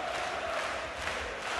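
A huge darts crowd at a European Tour quarter final roars and cheers, a dense, continuous wall of noise from many voices, loud and unbroken for the whole moment.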